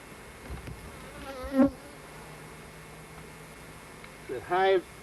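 Honeybees buzz close by at a hive in brief passes, a couple of rising and falling hums standing out over a faint, steady background drone.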